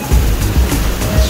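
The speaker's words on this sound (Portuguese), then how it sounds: "Cachoeira da Esmeralda em Roraima!" Esmeralda waterfall in Roraima, a steady, loud rushing roar of falling water close by, broadband and continuous with surging low swells.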